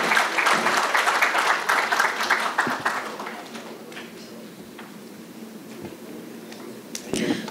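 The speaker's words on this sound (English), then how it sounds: "Well, the applause said it all." Audience at a pharma sales conference applauding after a panel session, strong clapping for about three seconds that dies down into scattered claps and quiet room noise, with a few final claps and voices near the end.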